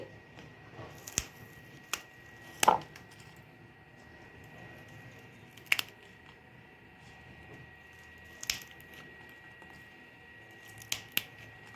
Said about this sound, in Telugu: పచ్చిమిర్చి ఇట్లా చిన్నగా కట్ చేసుకొని వేసుకోవాలి